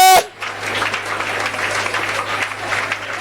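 A church congregation at an evangelical Friday worship service breaks into sustained, dense applause after a brief tone, the clapping steady and fairly close for several seconds with no clear talk.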